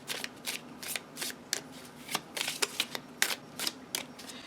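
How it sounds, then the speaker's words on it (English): A trimmed deck of playing cards is riffled and shuffled by hand in quick, crisp, fluttering bursts of papery snaps, close and fairly quiet, repeating in an uneven rhythm with no talk. "It still gets a little bit of the chunky shuffle sometimes when you don't get it quite, because you know it's not perfectly even."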